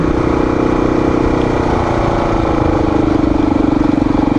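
Motorcycle engine running steadily on a gravel back road near Blairsville, Georgia, a loud close throbbing drone with a slight rise in pitch toward the end and no talk.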